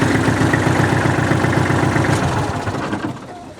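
A Kubota L35 tractor's diesel engine idles close by with a loud, rhythmic low chug that fades slightly toward the end.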